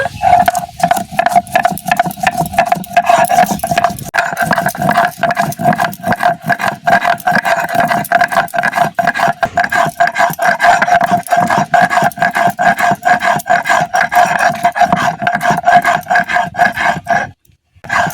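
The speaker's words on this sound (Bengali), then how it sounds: "শিলে দিয়ে দেব গরম মশলা" Garam masala being ground on a traditional shil grinding stone in a home kitchen, a steady, rapid rasping scrape of stone on stone repeating throughout, close and fairly loud, with a brief pause near the end.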